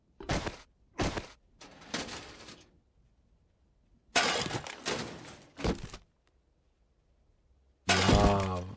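In the survival game 7 Days to Die, glass shatters in a series of sharp, close bursts separated by short silences, with heavier crashing breaks midway and a loud, ringing smash closing the sequence.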